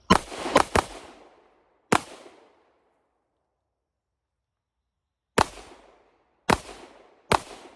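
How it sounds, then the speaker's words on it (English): Sharp gunshots from a Colt M45A1 1911 pistol crack out close and loud, three in quick succession, then a single shot, a long pause, and three more spaced reports with echoing decay. "Okay, so we'll make ready for live fire."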